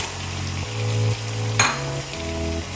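Chicken frying and being stirred in masala in a pan, a close, steady sizzle under a low hum, broken by a single sharp scrape or clink of a spoon partway through.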